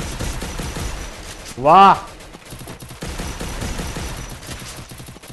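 Shotgun and machine gun fire in Free Fire, rapid gunshots rattling throughout beneath a voice briefly exclaiming, with dense bursts before and after a short pause.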